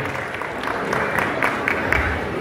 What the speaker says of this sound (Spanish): Fuerte los aplausos que se escuchen de este bello y hermoso público que nos acompaña